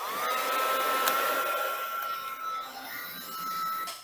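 Heat gun blowing on sound deadener inside a VW Beetle, a close, steady whirring blast with a high whine that ramps up at switch-on, then fluctuates slightly as it moves.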